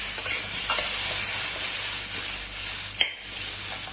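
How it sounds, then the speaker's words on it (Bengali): Pre-fried potatoes added back into a pan for a sesame and pointed gourd gravy, frying with a loud, steady sizzle and occasional soft knocks as they are stirred. "প্রথমে যে আলুটা আমি ভেজে রেখেছিলাম ওই আলুগুলোও আমি দেখুন"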